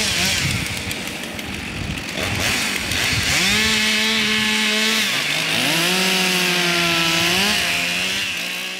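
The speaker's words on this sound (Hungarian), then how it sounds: "Most nem madárcsicsergéstől, hanem motoros láncfűrésztől hangos a sóstói erdő." A chainsaw cutting trees in a forest revs loudly nearby, its whine climbing and falling as it bites into wood, with a rough cutting rasp at the start.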